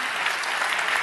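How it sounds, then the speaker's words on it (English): Applause from an audience, steady dense clapping from many hands, begun by one person and taken up by the rest, filling the whole short stretch without talk. "I think this is worth an applaud."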